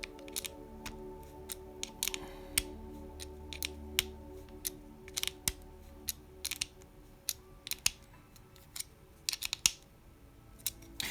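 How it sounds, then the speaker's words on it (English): Screw being driven into plastic on a 2024 Tamiya Hornet EVO model car while attaching the rear axles, a quiet close run of irregular ticks and small clicks with a faint steady hum underneath. "So we can screw this all the way in."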